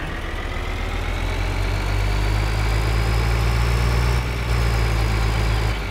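Farm vehicle engine in the video game Farming Simulator 2013, droning steadily and loudly while driving, a deep constant hum with a slight rise in pitch and no speech.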